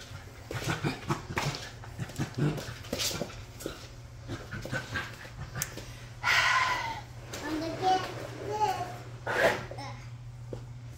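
A dog pants and whimpers near a mop bucket on a floor being mopped, its breathy sounds mixed with a person talking nearby.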